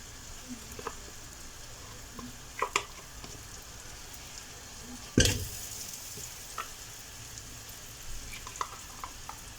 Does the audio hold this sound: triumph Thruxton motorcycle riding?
no